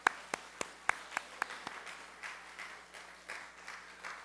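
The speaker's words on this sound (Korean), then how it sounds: "우리 박수로 환영하겠습니다." A church congregation claps to welcome visitors, a few crisp separate claps at first that spread into softer scattered applause in a quiet hall.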